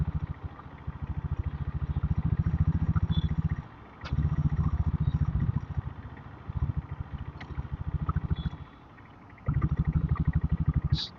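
An old-model diesel Royal Enfield Bullet motorcycle rides through Chennai city traffic, its engine thumping in a loud, steady low chug that surges and drops away in bursts as the throttle opens and closes.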